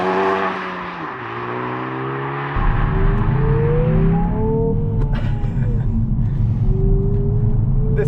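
A Hyundai i20N hot hatch in N mode with aggressive throttle and rev matching revs up, its steady engine drone stepping up in pitch and getting louder and grittier midway, with rising harmonic sweeps continuing to the end.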